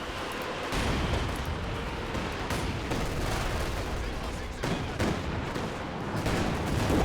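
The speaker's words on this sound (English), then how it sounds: "Katusha firing on where the Stuka was" Katyusha rocket artillery fires in Company of Heroes 2, a dense, continuous barrage of rumbling launches and blasts rolling on without pause for several seconds, loud and steady with a few sharper bursts.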